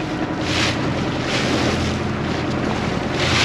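A steady boat motor drone rumbles throughout, mixed with gusting wind and rushing water, continuous and fairly loud.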